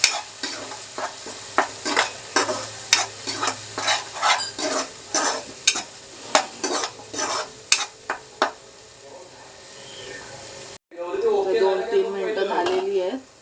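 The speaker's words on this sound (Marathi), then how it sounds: "आपण तेलामध्ये चांगली परतून घेऊया" Beef liver for Malvani-style dry kaleji sautéing in oil in a pan, heard as a steady row of close scraping stir strokes over a sizzle, ending in a louder continuous sizzle.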